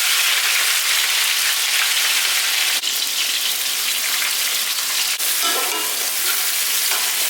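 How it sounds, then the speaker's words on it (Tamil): Chopped onions fry and sizzle in a pot of oil with garam masala for chicken biryani, giving a loud, steady hiss with occasional stirring, no talk. "இப்போ இந்த வெங்காயம் நல்லா வதங்கணும்."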